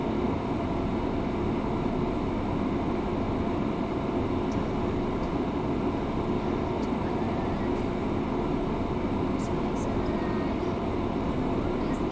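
A Virtavia C-17A jet in the FSX flight simulator sits in a dense, steady engine roar that holds loud and unchanging throughout, with faint clicks and brief voice traffic mixed in.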